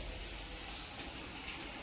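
Water being poured steadily onto potted plants, a constant soft splashing and gushing that runs without a break.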